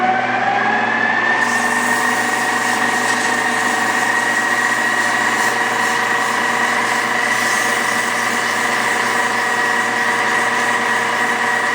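A Datsun 521 engine runs loud and close at raised RPM, holding a steady, even drone throughout with no pauses.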